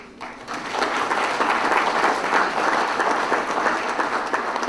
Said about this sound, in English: Let us all applaud the success of the Empire.